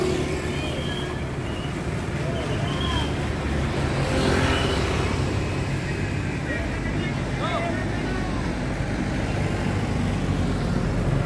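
Buses pull into a busy parking lot at a bakpia shop in Yogyakarta, engines idling and rumbling at moderate distance under steady traffic noise, with people talking in the background.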